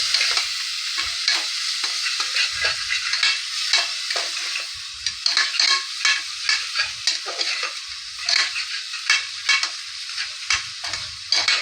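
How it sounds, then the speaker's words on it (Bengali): Spice masala for a Bengali-style jackfruit curry sizzles in a pan with a splash of water, while a spoon scrapes and stirs in repeated strokes. The frying sounds close and steady, with no talking. "মশলাটার ভিতরে জল দিয়ে একটু ভালো করে কষিয়ে নেব"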